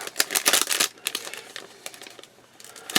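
Resealable plastic bags holding parts for a 1/35 scale Takom StuH42 and StuG.III Ausf.G tank model kit crinkle and rustle as they are handled, in several quick close bursts of crackling with brief pauses.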